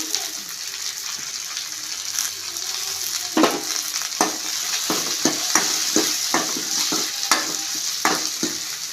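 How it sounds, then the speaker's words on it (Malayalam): Curry leaves dropped into hot oil for a Kerala-style egg roast, giving a steady close sizzle with a run of sharp crackling pops and stirring clatter, no voices. "വേപ്പിലിട്ട് കൊടുക്കുക"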